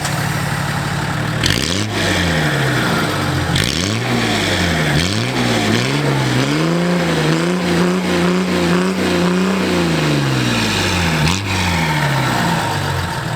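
A naturally aspirated Nissan Patrol TD42 diesel engine revs hard again and again. Each rise and fall in pitch comes one after another in a steady pattern, loud and close, with no talking.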